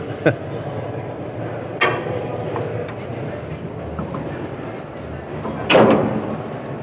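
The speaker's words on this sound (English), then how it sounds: "So we would just grab that release, loosen it up, and then shut the door." A machine's cab door is shut at a scrap recycling convention, giving a sharp slam near the end after a couple of lighter knocks, set against steady background hall noise with a voice talking.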